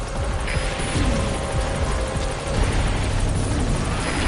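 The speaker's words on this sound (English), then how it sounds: "All right, the chopper's touching down." Helicopter in Metal Gear Solid V: The Phantom Pain touching down for a pickup, its steady rotor roar and engine drone filling the scene continuously and loudly, with no voices over it.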